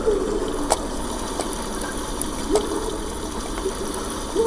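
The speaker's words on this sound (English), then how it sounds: "Water has begun to slowly fill the chamber, it says." Water slowly filling a stone chamber in Amnesia, a steady rushing gush with a few faint drips and clinks over it.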